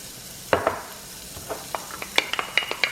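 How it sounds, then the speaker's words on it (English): Shallots and salt hit medium-high hot oil, sizzling steadily with a burst of crackle as they land, followed by several sharp utensil taps and scrapes against the pan. "the oil's hot. We're going to add the shallots and the salt."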